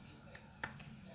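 A teacher leads young pupils in a short rhythmic 'tepuk semangat' clap pattern during a classroom lesson: a few quick, light claps spaced apart against a quiet room, with faint voices underneath.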